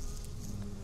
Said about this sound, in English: it doesn't matter how many bees you have in there